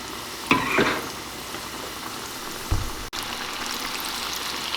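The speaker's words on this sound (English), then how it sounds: "about half of our batch is here frying." Breaded boneless buffalo wings fry in a pot of oil, giving a steady soft sizzle and crackle with a couple of brief louder bursts of spattering.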